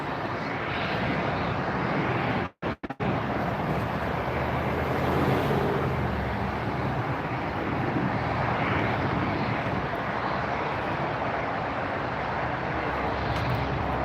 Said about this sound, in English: The one that we just watched land was a Volaris Flight 7780, arriving from Morelia, an Airbus 320.